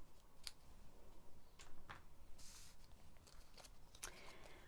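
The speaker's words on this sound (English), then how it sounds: "Right, just cut this off now." Scissors snip something off during a craft demonstration, a handful of faint, quiet cuts scattered through an otherwise hushed room.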